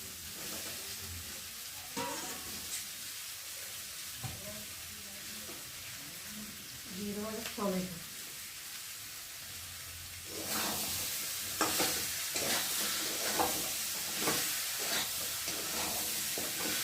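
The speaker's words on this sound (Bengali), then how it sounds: "একের সাথেই সবগুলো কষিয়ে নেব ভালো করে" Spices sautéed together with fried pointed gourd (parwal) and soya chunks in a pan, a soft sizzle with intermittent spatula scrapes and faint voices, then the frying grows suddenly louder and crackles steadily with repeated stirring strokes.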